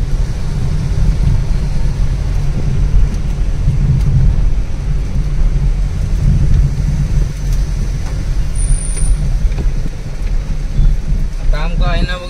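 A car drives through traffic on Ghodbunder Road in light rain, heard from inside: a steady loud low rumble with a hiss of drizzle throughout, and a few faint higher tones near the end.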